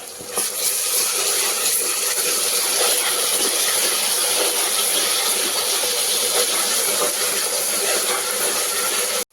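Ginger-garlic paste fries with onions in a pan for a mutton curry, giving a continuous, even sizzling hiss that holds steady throughout.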